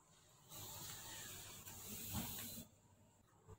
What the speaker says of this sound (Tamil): பாருங்க, குழம்பு நல்லா கொதிக்குது.